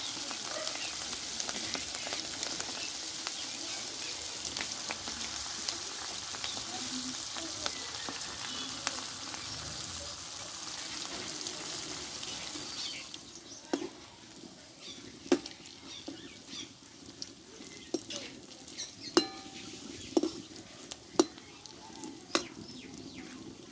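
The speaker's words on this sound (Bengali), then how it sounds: "পরপর একই প্রসেসে আমি ভেজে নেবো" Cauliflower fritters fry in oil, sizzling steadily in a dense, hissing wash; later the hiss thins and sharp crackling pops burst out at irregular intervals, close by.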